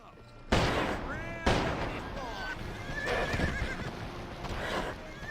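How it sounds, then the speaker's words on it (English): Horses neigh and whinny loudly in the Western video game GUN, with hoofbeats and gunfire bursts, several calls overlapping across the scene amid speech-like game chatter. "This next wave here is all men on horseback."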